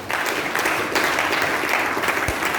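Church congregation applauding the Lord during a worship service, a steady dense wash of clapping that holds loud and even throughout, with no voices standing out.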